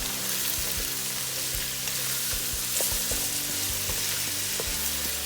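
Celery and onions sizzle steadily in a pan for a dairy-free, gluten-free corn chowder, a dense, continuous frying hiss up close with small crackles and no talking.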